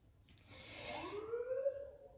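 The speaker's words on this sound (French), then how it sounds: "Pardon pour la sirène" A faint siren wails in the distance, its pitch sliding upward in a single rising sweep.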